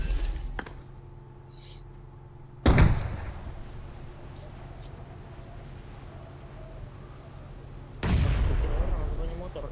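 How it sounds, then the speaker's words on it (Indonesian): Bombs going off in a video game, two sharp loud blasts a few seconds apart, each trailing into a rumbling decay over ambient game noise. "Siapa bom tu?"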